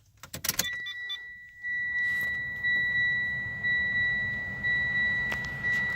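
Turning the ignition key on a Mitsubishi Lancer sets off a brief key jangle and click, then a steady electronic whine and hum from the car as the accessories power up, holding on without any talk.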